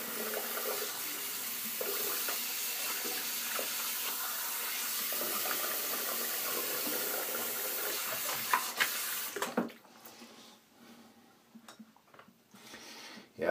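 Water runs steadily from a bathroom tap while the face is wetted before a shave, a continuous hiss that stops abruptly after about nine seconds, leaving faint splashes and drips.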